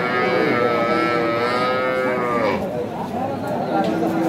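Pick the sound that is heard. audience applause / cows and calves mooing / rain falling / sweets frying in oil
cows and calves mooing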